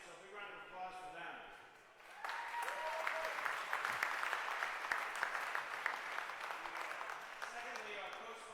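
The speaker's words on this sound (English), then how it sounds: "So a big round of applause for them." An audience at the 2018 US Open racquetball singles final applauds the champions, a full burst of clapping that sets in suddenly after a voice speaks and carries on steadily, with some cheering mixed in.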